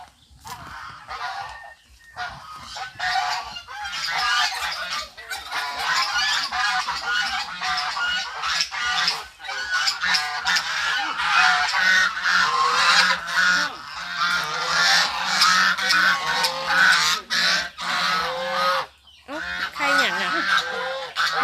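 Geese honk loudly and repeatedly nearby, a busy chorus of overlapping calls that continues throughout with only brief pauses.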